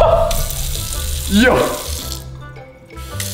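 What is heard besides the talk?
kitchen faucet water running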